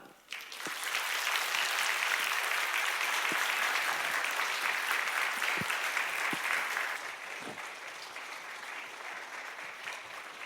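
A church youth-service congregation gives warm sustained applause, steady and loud for several seconds before thinning slightly toward the end.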